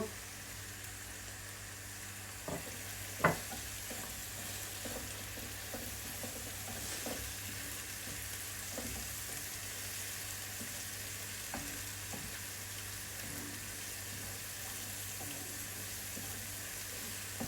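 Ground spice paste tipped into hot oil in a pan for a raw papaya and hilsa fish curry, fizzing with a soft continuous hiss and a few light utensil clicks, fairly quiet and without talk.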